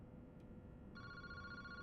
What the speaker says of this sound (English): Boss, the phone is ringing.